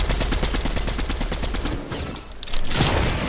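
Rapid gunfire in the Fortnite video game, a fast run of close, loud shots over about two seconds, then a brief lull before another dense burst of firing returns.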